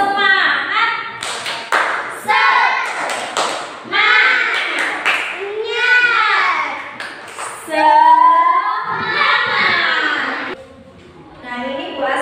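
Classroom group clapping chant led by a teacher, with short bursts of rhythmic clapping mixed with loud children's voices chanting along close by.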